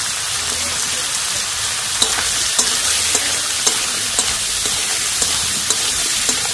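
Chicken pieces with chopped green chili, tomato and capsicum are stir-fried in a pan for fried rice, a continuous loud sizzle punctuated by regular spatula scrapes and knocks.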